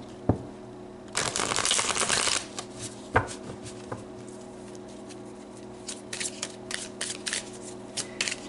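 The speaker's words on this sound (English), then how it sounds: "So let's pull some more cards." An oracle card deck is shuffled by hand: a dense, close riffling burst for about a second, followed by scattered soft taps and card flicks.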